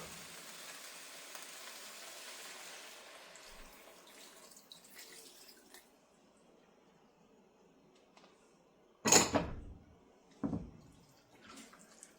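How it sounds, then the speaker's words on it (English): Broth pours into a pot of beef chili with a steady liquid trickle, then a couple of louder splashy bursts toward the end as more goes in, close and alone without talk. "We're going to pour in the broth."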